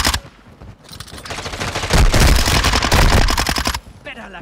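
Rapid bursts of Minibak gunfire in Call of Duty, a dense, loud stream of shots that swells mid-clip and cuts off near the end, with a voice faintly underneath.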